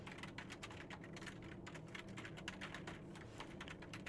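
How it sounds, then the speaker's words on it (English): Fingers type a name and mailbox into a user-information form on a computer keyboard, producing a steady, rapid run of close, light key clicks without pause and without any talking. "So here, I'm going to type in my name"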